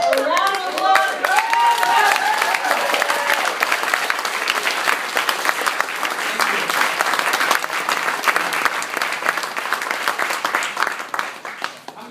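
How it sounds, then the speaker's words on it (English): An audience at a NASA Social event gives a long, dense round of applause with some cheering mixed in early, sustained and fairly loud before tapering off near the end. "A round of applause."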